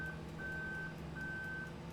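Reversing beeps from a truck in Farming Simulator 2011, a steady run of repeated high electronic tones under a constant low engine hum, no talk.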